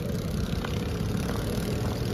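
Boat motor running near a river in Candaba, Pampanga, a steady, loud low-pitched droning engine with constant rumble throughout, no talk.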